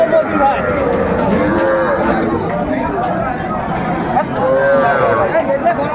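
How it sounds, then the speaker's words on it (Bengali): Cattle, including small bulls and heifer calves, moo repeatedly at the Ambari livestock market in Dinajpur. Several close, drawn-out calls rise over a steady hubbub of crowd chatter and bargaining voices. "এই গরুটি আমরা দেখছিলাম"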